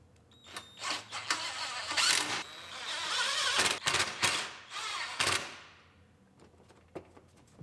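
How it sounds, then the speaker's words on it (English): Screws are driven into the radiator support of an Acura RDX with a power driver, in several loud whirring bursts separated by short pauses and clanks, close by, with no talking. "We'll put the screws in the bottom that hold it into the radiator support."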